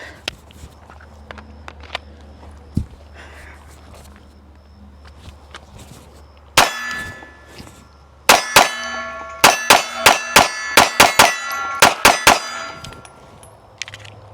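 A compact Bodyguard pistol is loaded, starting with a few quiet taps, then a burst of sharp metallic clicks and clacks that settle into a rapid, evenly spaced series, close and crisp.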